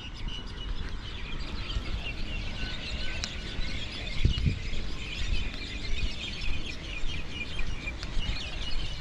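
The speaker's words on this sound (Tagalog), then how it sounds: "Maingay yung mga ibon doon sa mga puno na yan." Birds chirping and calling steadily from nearby trees in Manurewa, Auckland, New Zealand, over a rustling outdoor background, with no talking.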